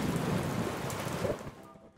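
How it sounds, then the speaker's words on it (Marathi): Steady rain falls close by, a loud dense hiss of drops at onset that thins toward the end, with no voices. "अरे बघ, पाऊस सुरू झाला."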